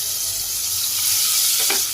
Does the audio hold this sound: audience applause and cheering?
no